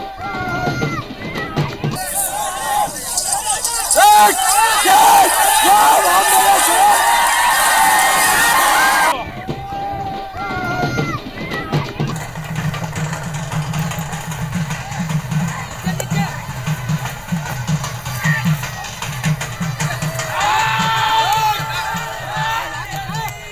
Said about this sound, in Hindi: इस दौरान लड़ाई देखने के लिए लोगों की भारी भीड़ जमा हुई।